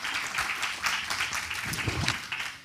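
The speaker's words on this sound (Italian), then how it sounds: "grazie anche per l'applauso" An audience at a social report presentation applauds steadily, a dense wash of many hands clapping at a moderate distance with no voices over it.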